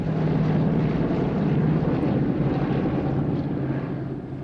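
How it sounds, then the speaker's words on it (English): A Douglas DC-3 powered by big Pratt & Whitney radial engines flies over at an airshow in Coventry, a loud, continuous low engine drone that holds steady and fades only slightly toward the end, with no talk. "The sound of those big Pratt & Whitney radial engines as they fly over Coventry"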